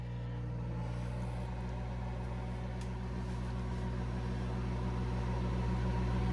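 A microwave oven runs with a steady, unbroken electrical hum and drone that holds at an even level throughout, with no talking.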